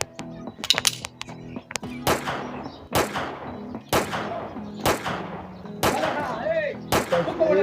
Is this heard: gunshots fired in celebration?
yes